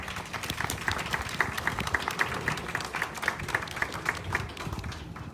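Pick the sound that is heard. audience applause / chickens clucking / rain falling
audience applause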